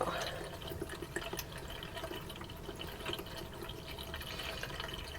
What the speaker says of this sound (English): So as you can see, there's the little drain plug, and we're just gonna pull that out and let it drain.